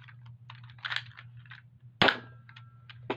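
A Nerf sniper blaster firing: one sharp, close snap near the middle, among lighter clicks and handling clatter from the blaster, with no talk.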